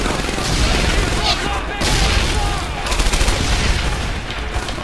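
Sustained rifle and machine-gun fire rattles through a battle in the Xbox game Medal of Honor Airborne, loud and continuous with bursts of shots and booms throughout the clip.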